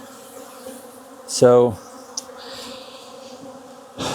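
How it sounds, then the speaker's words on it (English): Honey bees buzz around an opened hive during a spring mite check, a steady drone of many insects close by, with a brief louder swell as bees pass near and one short spoken word. "These bees are not happy."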